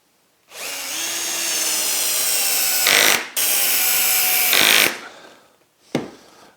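A power drill drives screws into wood in two long, loud, steady whirring runs, each ending in a brief squeal as the screw seats, followed by one short final burst.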